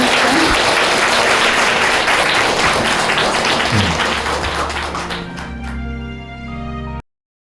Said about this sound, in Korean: 여러분, 우리 수행자님에게 박수 한번 주세요.